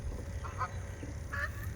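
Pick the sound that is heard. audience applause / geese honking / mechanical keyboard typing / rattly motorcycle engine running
geese honking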